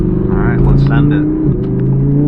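An Audi R8 V10 Plus accelerating on a city street, its engine note rising in a strong, close, loud roar with a brief dip midway before climbing again.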